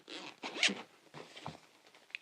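A zipper runs open on a Hohem iSteady MT2 gimbal carrying case, giving a few close, scratchy pulls in quick succession with short pauses between them, heard alone.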